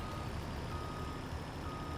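A truck in Farming Simulator 22 backs up beneath a conveyor, its steady reversing beeps sounding over a constant low engine rumble throughout.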